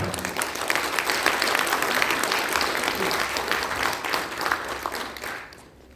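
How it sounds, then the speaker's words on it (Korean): A large audience at a political party launch event claps in loud, sustained applause to welcome a speaker, holding steady for several seconds before fading out abruptly at the end. "큰 박수로 여러분들 맞이하겠습니다"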